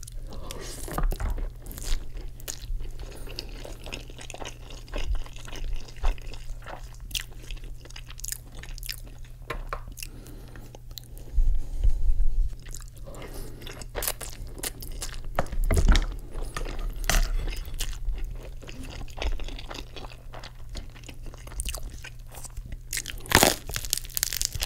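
Cheesy garlic bread is bitten and chewed close up, with repeated crisp crunches and wet chewing in a quiet room and no talking.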